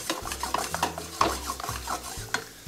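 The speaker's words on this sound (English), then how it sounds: "we're going to toss, really mix all this together" Pork being tossed with sofrito in a pan, a quiet sizzle under busy scraping and clinking of a utensil against the pan as the meat is mixed, close with no voices.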